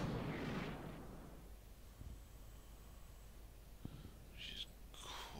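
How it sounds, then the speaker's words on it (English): Incoming artillery fire in the World War II tactical game Combat Mission: Battle for Normandy, a heavy rumbling blast at the start fading into a low roar, with a few fainter thuds and bursts after. "This is fire coming in over there as well."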